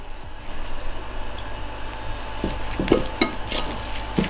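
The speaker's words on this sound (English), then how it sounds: "Give it a good mix." Wonton filling mixed with a few spoonfuls of water squelches and squishes in a bowl, soft wet stirring with a few sharper clicks of utensil against the bowl, close up and without talk.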